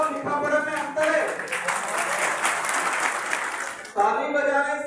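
An audience at a Bharat Adivasi Party political rally in Udaipur claps through a speech, dense sustained applause rising over a voice that keeps speaking at the start and again at the end.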